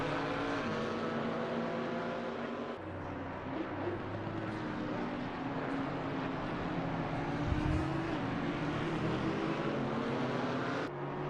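A Camaro race car's engine roaring continuously through revs and gear shifts in a PC racing game at Brands Hatch, loud and steady with shifting pitch sweeps, other cars nearby.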